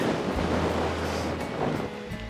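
Strong northerly wind blowing across a wilderness lake during a canoe trip, a steady loud roaring rush with choppy water sloshing close by, no talking.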